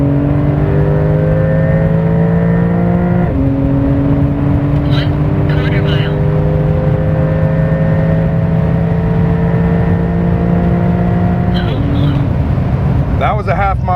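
A Porsche 911 Turbo S launches hard and accelerates down an airstrip, a loud, close engine roar rising in pitch through two gear shifts, with brief clicks near the end.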